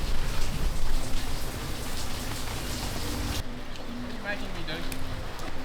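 Steady rain falls on an outdoor construction site at a 300kW solar installation in Brisbane, a dense continuous hiss with faint voices and a low engine hum beneath, easing slightly after a sudden cut midway.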